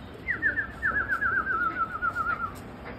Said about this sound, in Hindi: ये कबूतर आके बैठ चुका है टावर के ऊपर में